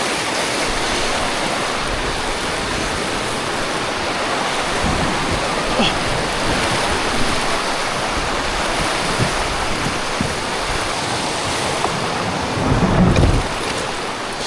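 Rushing water of rapids on the Devils River as kayaks are guided through, a steady broadband roar close by with wind buffeting the microphone and a brief splash near the end.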